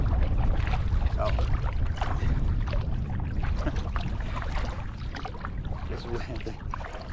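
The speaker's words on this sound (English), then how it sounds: "this wind doesn't want me to make any progress at all, though" Strong wind buffets the microphone while a solo canoe is paddled on a lake, giving a constant low rumble with faint water splashes and trickles from the paddle strokes.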